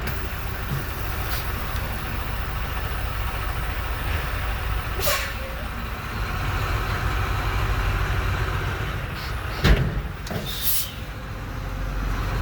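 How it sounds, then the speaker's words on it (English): A semi truck's engine idles and strains in a tug test against a hooked trailer, a loud low rumble with a brief hiss of air brakes and a sharp clunk near the end. "That was the official tug test of this trailer right here."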